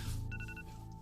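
A mobile phone rings with a faint, brief electronic tone pattern, several short pulses over a steady background hum.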